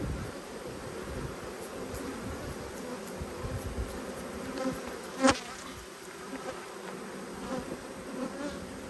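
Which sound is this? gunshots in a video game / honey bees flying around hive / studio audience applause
honey bees flying around hive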